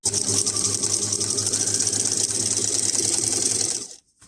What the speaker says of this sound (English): I'm going to turn it around, fold the fly flap back, and sew it down on that line there.